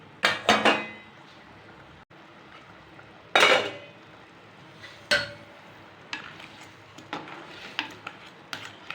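Raw crab being stirred into a simmering masala gravy in a pot, with a few sharp clanks and scrapes of a spoon against the metal spread over several seconds, then softer intermittent knocks.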